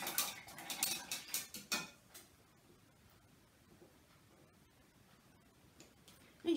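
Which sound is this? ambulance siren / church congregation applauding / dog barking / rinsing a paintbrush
rinsing a paintbrush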